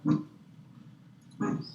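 Puppies letting out two short grunting, yelping bursts, close and fairly loud, separated by a pause of low snuffling.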